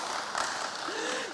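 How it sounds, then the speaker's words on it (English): A small Bible study group applauds together, a steady wash of clapping with a voice briefly audible over it. "Give them a round of applause."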